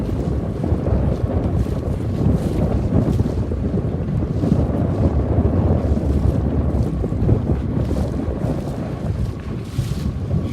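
A small Sabot sailboat racing in a regatta, with strong wind buffeting the microphone and water rushing along the hull in a continuous, loud, rough wash.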